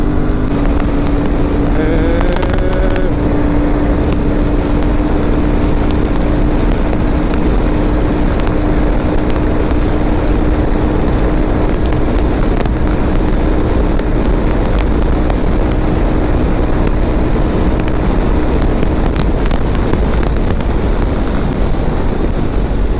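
A fast-moving motorcycle on an open road, heard as a loud steady roar of wind buffeting and engine drone that never lets up, with a brief rising engine whine early on.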